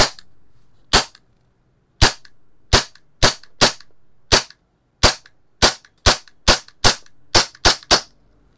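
A pistol with a metal slide and polymer lower frame is test-fired in about fifteen sharp, loud cracks spaced in an irregular but fairly quick rhythm, each snapping off cleanly into silence.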